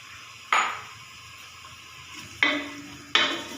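Onions fry in a pan on the way to light brown, a faint steady sizzle broken by three sharp scraping stirs, one early and two close together near the end.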